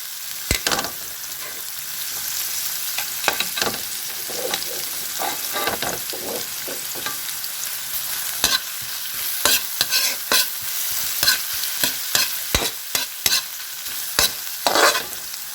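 Ginger and white onion sauté in a hot pan for a pampano fish dish, a steady close sizzle broken by repeated scraping and stirring strokes of a utensil against the pan.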